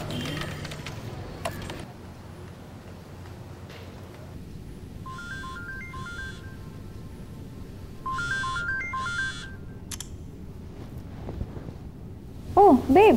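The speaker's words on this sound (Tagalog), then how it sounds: "Teka, tawagan na po natin si Jessica." A telephone number being dialed, two quick clusters of keypad tones in short beeping runs heard fairly clearly over a low background hiss, followed by a brief ringing tone at the end.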